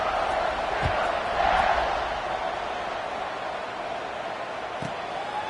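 A football stadium crowd waits for kickoff, a distant, even murmur and roar that swells briefly before settling, with a couple of dull thuds.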